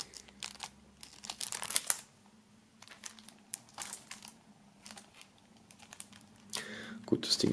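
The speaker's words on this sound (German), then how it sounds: "machen wir hier mal die Folie ab" Plastic film is peeled off an unboxed box, with soft close crinkles and tearing bursts in irregular spurts between quiet gaps, alongside quiet speech.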